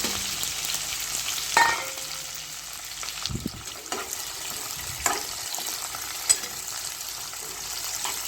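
Mustard seeds and cumin spluttering in hot oil for a potato gravy curry: a steady, hissing sizzle with a few sharp pops and crackles scattered through, fairly close and with no voices.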